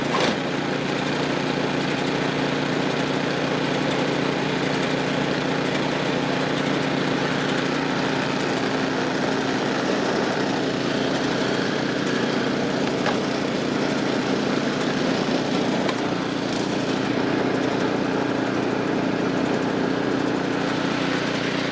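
A Poulan Pro PR241 snowblower engine runs steadily at a constant idle for the whole stretch, a continuous close mechanical drone with no talk.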